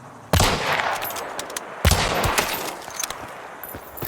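Gunshots in the video game Hunt: Showdown 1896, two loud, sharp rifle cracks about a second and a half apart, each trailed by echoing reverberation and smaller rattling sounds.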